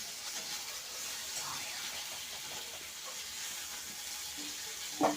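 Food frying in a pan gives off a steady, fairly quiet sizzling hiss that runs without a break and without talk, ending in a brief louder clatter.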